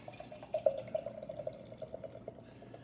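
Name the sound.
beer being poured into a glass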